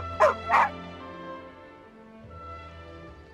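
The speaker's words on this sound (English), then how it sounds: "Here, doggy. Good doggy." A dog in the video game Genshin Impact gives two sharp, close yips or barks in quick succession, then falls quiet under a steady, sustained background tone.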